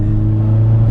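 A big-turbo Vauxhall Astra VXR rumbles with a deep, loud exhaust drone heard close up, with no talk over it.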